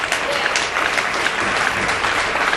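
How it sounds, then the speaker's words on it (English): Steady studio audience clapping on a business news television show, a dense roomful of hands with a few faint cheers, continuing evenly throughout. "Give them a round of applause."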